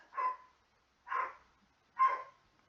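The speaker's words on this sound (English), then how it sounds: "pardon dog noises" A dog barks three times at an even pace, each bark short and moderately loud, with silence in between.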